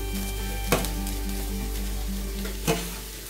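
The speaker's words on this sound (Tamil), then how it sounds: "இந்த குடமிளகாய் வெங்காயத்து கூட சேர்ந்து அந்த பச்சை வாசம் போக வதங்கிடணும்" Capsicum and onion sautéing in a pan, heard as a continuous loud sizzle with a low steady hum beneath it. Two brief sharp clanks of a utensil stand out over the frying, and no one speaks.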